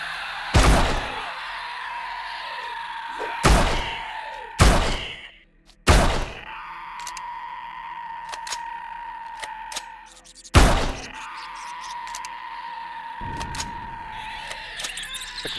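Gunfire in the Empyrion space-survival game, loud sharp shots fired at irregular intervals, some in quick pairs, each cracking with a metallic ring and short tail, while a steady droning hum sits underneath.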